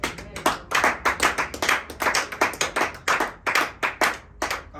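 A church congregation claps in rhythmic bursts for Jesus, sharp and close, with uneven handclaps running throughout and no talking.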